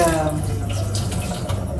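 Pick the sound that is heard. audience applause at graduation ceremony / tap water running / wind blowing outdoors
tap water running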